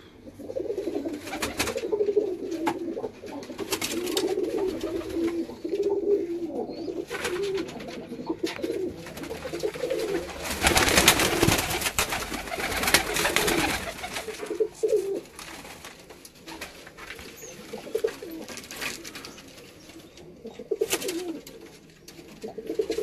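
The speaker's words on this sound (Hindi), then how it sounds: "ये शेरदिल कबूतरों के बच्चे हैं।" Young Sherdil pigeons coo repeatedly at close range, soft throaty calls layered over one another, with a brief burst of rustling or flapping midway.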